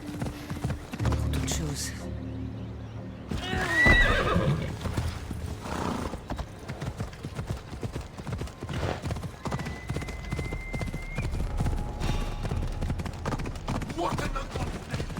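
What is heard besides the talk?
horse hooves clip-clopping and neighing in Assassin's Creed Odyssey video game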